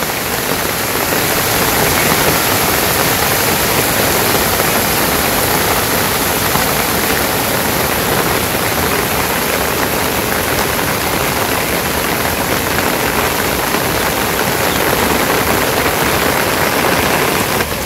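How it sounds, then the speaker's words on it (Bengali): Heavy rain pours down in a village, a dense, steady roar of water that stays loud and unbroken throughout, with no voices. "একদম সাদা হয়ে নামছে বৃষ্টি, খুব বৃষ্টি হইতেছে।"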